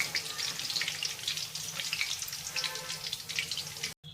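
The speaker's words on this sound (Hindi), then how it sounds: "अब हम इसकी साइड को डन करेंगे, गोल्डन फ्राई कर लेंगे।" Chicken cone samosas deep fry in hot oil, a dense bubbling crackle that stays steady and close for several seconds, alone, cutting off briefly at the very end.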